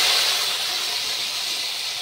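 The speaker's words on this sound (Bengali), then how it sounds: "তেলটা গরম হয়ে গেছে। এর মধ্যে আলু দিয়ে দেব" Potatoes dropped into hot oil in a wok for a fish dak bungalow curry give a steady, loud broadband sizzle and hiss that fades slightly over two seconds, with no talking.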